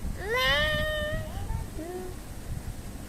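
A single drawn-out cat meow, fairly close and clear, rising then trailing off, followed by a shorter softer mew over low background rumble.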